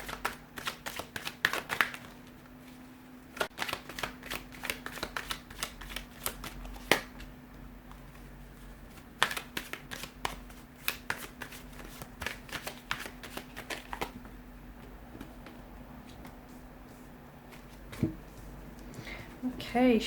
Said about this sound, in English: we'll go ahead and give the cards a shuffle here